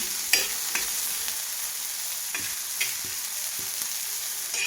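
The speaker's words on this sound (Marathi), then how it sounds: "कांदा मी छान असा सोनेरी कलर येईपर्यंत भाजून घेणार आहे" Chopped onion frying in a pan toward golden brown for Maharashtrian green chilli thecha, a steady close sizzle with occasional sharp stirring clicks and scrapes, no talking.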